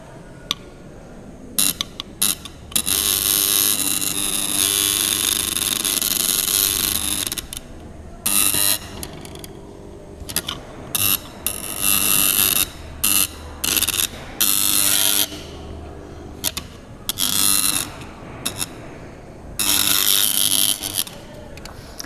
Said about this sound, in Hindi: तो यहाँ पर आप सुन सकते हैं कैसे हमिंग का साउंड हो रहा है।